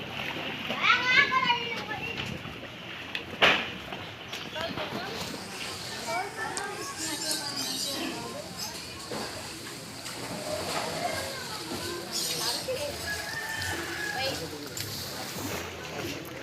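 High-tide floodwater sloshes and splashes around a tricycle whose floor is submerged, the watery noise running under frequent talking voices, including a child's.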